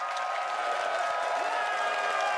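Esports arena crowd at a League of Legends playoff semifinal cheers and applauds before a game, a dense steady roar of many voices and clapping filling the space without a break.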